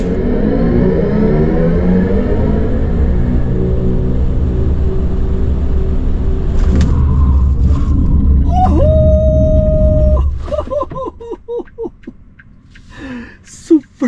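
A BMW iX3 Neue Klasse electric car accelerates hard from a stop using launch control, with a rising whine and low rumble, followed by excited voices talking over the fading motor noise.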